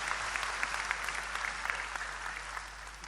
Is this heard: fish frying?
no